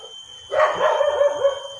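A single short dog vocalization, a brief yelp or bark with a whiny tone, heard close against a quiet background.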